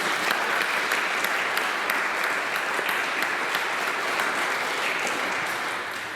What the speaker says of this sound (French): Je pense qu'on pourra les applaudir à toute l'équipe